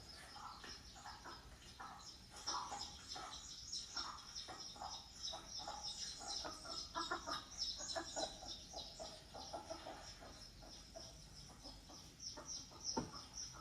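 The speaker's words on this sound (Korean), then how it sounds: "저 위험의 순간에 암탉이 뿅아리를 보호하기 위해서 뱀을 내쫓고 있죠?" A hen clucks repeatedly in short agitated bursts while chasing off a snake to protect her chicks, sounding moderately close over a steady chirping of insects in the background.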